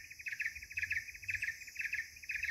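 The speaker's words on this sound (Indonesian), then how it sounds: "Setiap masuk hutan pasti ada suara burung itu." A tiny forest bird, about fist-sized, repeats quick, high-pitched chirping phrases, close and clear, in a steady rhythm against a quiet forest background on Mount Lorokan.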